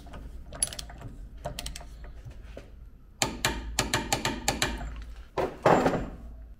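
Wrench ratcheting and metallic clicks while a classic Austin/Rover Mini ball joint is torqued up, a series of close, sharp mechanical clicks growing louder and denser in the second half.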